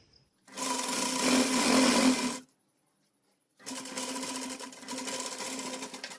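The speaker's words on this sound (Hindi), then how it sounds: "हमने इसे सिलाई लगा ली है।" A sewing machine stitches a seam on a girl's Pathani suit in two steady runs of whirring with a clear pause between them, close and alone, with no voices.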